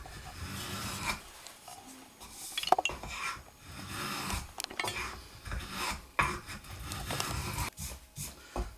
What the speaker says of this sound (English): and then some 80 grit sandpaper